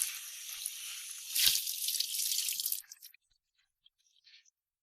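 Water runs from a tap over a fired ceramic bowl as it is rinsed, a steady hiss that surges briefly, then stops, leaving a few faint drips.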